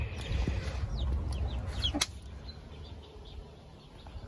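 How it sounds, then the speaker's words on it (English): Hen softly clucking to her foster chicks, with a string of short, close clucks and small peeping calls over low background rumble, plus one sharp click partway through. "mummy chicken is talking to them"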